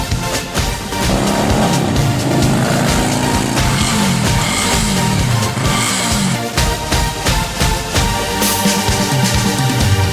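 Motorcycle fitted with an Akrapovic exhaust being ridden, its engine loud and continuous with rising and falling revs throughout and no talking.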